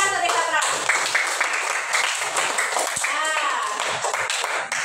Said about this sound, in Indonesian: Tepuk tangan untuk Rifatra.